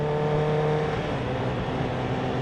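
A Honda CBR1000RR motorcycle fitted with a Yoshimura exhaust and no power commander gives off a steady, smooth engine drone while being ridden, with clear harmonic tones. It is loud and sustained, with no talk.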